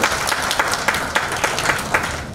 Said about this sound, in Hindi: तो जिसने आपको यहाँ बुलाया है उनके बारे में भी जोरदार ताली होनी चाहिए।